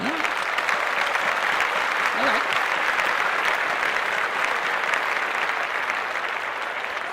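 Dense, sustained applause from a crowd, an even roar of clapping that holds steady at full strength throughout.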